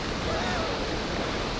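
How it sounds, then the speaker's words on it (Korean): Strong ocean waves at a Maldives resort wash and roar continuously, a dense broadband rush of surf mixed with wind noise, steady and close throughout. "파도가 엄청 세요."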